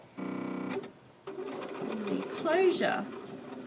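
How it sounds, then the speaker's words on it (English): Sewing machine with a zipper foot stitching polyester thread around a tote bag, a steady fast rhythmic whir for about half a second, then someone talks over quieter background. "now I'm just going to stitch around"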